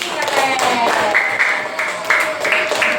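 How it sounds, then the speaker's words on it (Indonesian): Applause from a small group during a class session, a steady patter of hand claps lasting a few seconds, moderately close. "tepuk tangan dong buat Yati"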